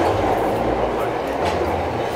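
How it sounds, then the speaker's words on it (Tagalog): A train pulling into a station platform, a steady loud rumbling roar that fills the whole moment, with no clear speech over it. "Ayan na ang tren."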